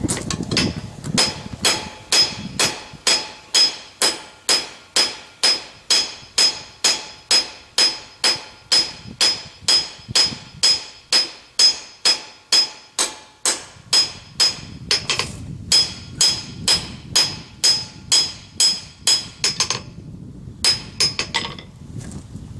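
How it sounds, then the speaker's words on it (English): A round face hammer strikes hot metal while forging a sign bracket, a long run of loud, evenly spaced ringing blows with a bright metallic clang, briefly pausing before a few final strikes, with no talking. "Now I'm going to switch over to my round face hammer. Take out some of these cross beam hammer blows on the back side."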